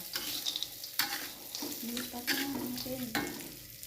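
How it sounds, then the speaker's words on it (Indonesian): Anchovies and peanuts being stir-fried in a pan over medium heat, with a steady close sizzle broken by scraping stirs of the spatula and a brief clatter near the start; no talking. "Kita masukkan, baru kita oseng-oseng lagi"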